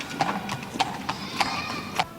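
Hooves of a working horse clip-clop on a Dublin street, five or six sharp, evenly spaced strikes standing out over faint background noise.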